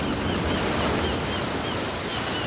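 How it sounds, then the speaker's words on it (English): Ocean surf washing onto a shore, a steady broadband rush of breaking water that holds even and fairly loud throughout, with no voices. "the waves carried his body to the shore"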